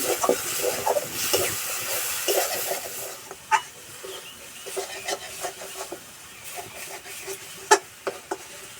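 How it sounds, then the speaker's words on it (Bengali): Spice paste for a Bengali potato and green pea curry sizzles and hisses in the pan after a little water is added, a steady steamy crackle with scattered sharper pops, moderately close and without talk. "এবার দিয়ে দেবো অল্প একটু জল আর একটু মশলাটা কষে নেব"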